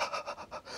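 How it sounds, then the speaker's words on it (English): Heavy, rapid breathing after shooting a black bear in Quebec comes in quick, close panting breaths, about six pulses in under a second, faint and breathy. "In the audio, you can just hear my breathing."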